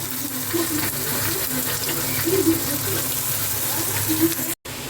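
Onion tipped into hot oil with ginger, garlic and chili for a dhaba-style egg masala curry, giving a steady broadband sizzle and watery hiss throughout, with a brief dropout near the end.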